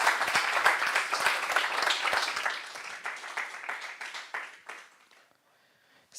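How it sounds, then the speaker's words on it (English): Conference audience at a data forum applauds a speaker, a dense burst of many hands clapping that thins out and fades to near silence by the end. "let's give another warm applause for the Sam"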